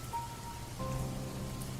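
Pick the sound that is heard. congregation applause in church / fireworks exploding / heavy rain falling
heavy rain falling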